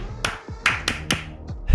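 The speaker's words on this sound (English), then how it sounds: "He's clapping in the house." A few sharp, separate hand claps ring out at an esports championship, close and irregular, with faint tonal background sounds between them.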